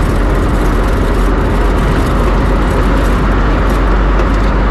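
A car drives around town past a university campus, heard from inside as a loud, constant engine and road rumble with a steady broadband roar and no talking.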